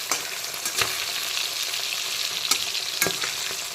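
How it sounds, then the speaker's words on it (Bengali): Kajli fish sizzles steadily as it fries in oil in a pan, a continuous close crackle with a few sharp knocks of a utensil against the pan. "এখন কিন্তু কাজলি মাছের একটা দিক ভালো মতো ভাজা হয়ে গেছে, তো আমি মাছগুলোকে উল্টো করে দিচ্ছি"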